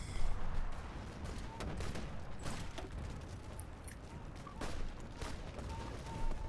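Muffled battle noise from Hearts of Iron 4 in a Great War scenario with Sweden: distant, scattered gunfire bursts and low thuds roll on at a fairly quiet level throughout.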